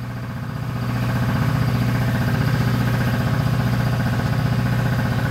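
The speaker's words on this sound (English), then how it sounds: "There goes my dab burn compressor." An air compressor runs close by with a steady low mechanical drone and fast pulsing chug, rising slightly in level after the first second and then holding constant, with no talk.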